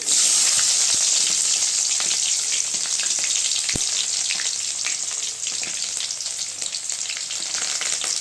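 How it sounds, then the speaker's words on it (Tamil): Onions and curry leaves frying in oil in a pan for a Tamil cabbage-carrot stir-fry, a loud continuous sizzle with scattered crackles and one sharp tap of a utensil near the middle, close and steady. "வெங்காயம் நல்லா வதங்கட்டுங்க"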